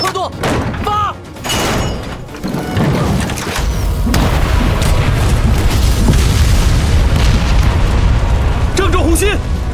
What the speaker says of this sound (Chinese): 这么大规模的轰炸，您到底藏了多少法师？